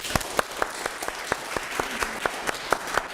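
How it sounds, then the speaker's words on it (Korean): A small class claps together at the end of a model-making lesson, a sparse, fairly regular patter of separate hand claps in a room, with no talking. "다 같이 박수 한번 칠까요?"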